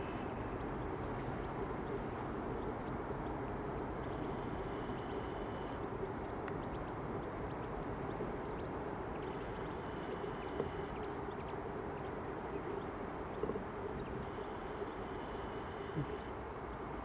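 An EasyJet Airbus A321 airliner taxiing out for departure at Edinburgh Airport, a continuous distant engine drone with a low hum that holds steady throughout, and faint high ticks now and then.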